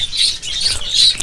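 Rainbow budgerigars chirp in a flock, with several bright, high chirps and twitters in quick succession, close and fairly loud.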